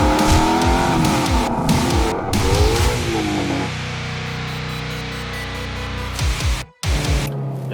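A Ford Mustang Shelby GT350 drives hard nearby, its engine roaring and shifting pitch as the tires squeal loudly and continuously, with a brief cut-off near the end before the engine noise resumes.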